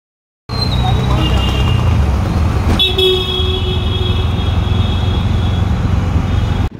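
City traffic in Surat on arrival, a loud steady roadway roar with car and bus horns honking, several toots stacked through the middle.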